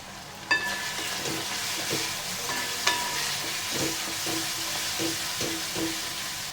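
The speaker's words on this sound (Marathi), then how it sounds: "मसाले छान असे एकसारखे परतून घ्यायचे धने पावडर थोडासा गरम मसाला हळद" Coriander powder, garam masala and turmeric sizzle steadily in hot oil while being stirred, with a series of soft rhythmic scraping strokes and a couple of sharper clinks over the continuous frying hiss.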